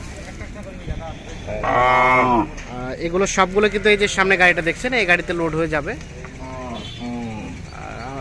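Cows and calves at a rural cattle market, tied in a row, moo loudly and repeatedly nearby, with long drawn-out calls overlapping as someone talks over them.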